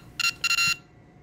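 Homemade Pong circuit board probed for its tones: two short, loud, bright electronic beeps, the second longer, then quiet hum.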